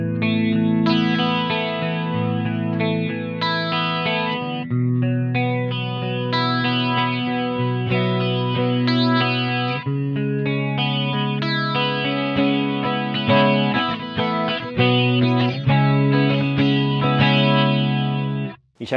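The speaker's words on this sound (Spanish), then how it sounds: "puedo combinar una tipo chorus y otra tipo flanger" Electric guitar through a BOSS Dimension C Waza Craft pedal blending a chorus mode with a flanger mode, giving sustained chords a swirling, shimmering wobble. It plays alone and fairly loud before cutting off sharply at the end.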